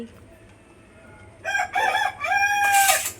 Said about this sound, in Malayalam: അവനിപ്പോ കൂവൽ തുടങ്ങിയ കോഴിയെ തോന്നുന്നു